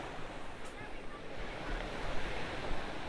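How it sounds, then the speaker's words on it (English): Sea waves on the shore near Watcombe Beach, Torquay, heard from a coastal path as a soft, distant wash of surf mixed with light wind noise, fairly faint and continuous. "And there is the sea."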